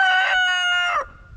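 A Tasmanian heritage quombie rooster crows once, loud and close, a sustained harmonic call lasting about a second before it cuts off to quiet.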